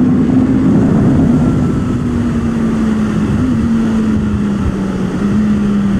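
A motorcycle engine hums steadily as the bike rolls out onto a race track, a loud continuous drone with a slowly falling pitch and no talk.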